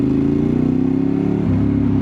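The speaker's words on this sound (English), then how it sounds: "the sound quality, the soundtrack of this bike is honestly probably the best I've ever been on" Steady, loud Ducati 848 motorcycle engine running up close with a deep, even throb, rising slightly in pitch toward the end, no voices.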